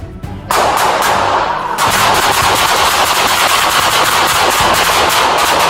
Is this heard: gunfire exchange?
yes